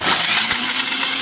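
Cinnamon, cloves, curry leaves, ginger and garlic are ground into a paste for tuna fish kebabs, a loud, continuous rough grinding roar with no voices.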